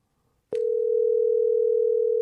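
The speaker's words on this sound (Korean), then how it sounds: "뭐 전화를 해도 안 받으시는 거예요?" A telephone tone sounds in a radio drama after a brief click, a single steady, unbroken tone that holds loud and continuous without pause until the end.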